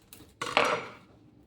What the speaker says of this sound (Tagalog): Maliit na knife lang. Yung magagayad ako ng onion, guys.